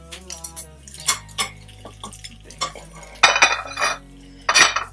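A frying pan is lifted and shifted on a Lidl induction hob adapter plate, giving sharp metallic clanks and scrapes in separate bursts, the loudest near the end, with a steady low hum running beneath.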